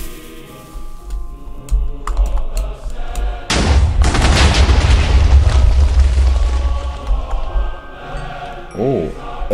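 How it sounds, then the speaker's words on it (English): TNT blasts against bedrock in Minecraft, a loud roaring burst of overlapping explosions that rumbles on for several seconds before fading, with a few softer game sounds before and after. "See if TNT can destroy Bedrock."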